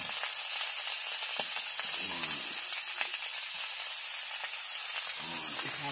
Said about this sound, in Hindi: बहुत तेल तेल गर्म है। बीच में इसको डाल देता हूँ